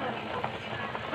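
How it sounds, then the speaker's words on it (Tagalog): Chicken adobo boils in a pot over an open fire, a close, steady bubbling sizzle that swells slightly at the end. "Kumukulo na yung adobo nating manok."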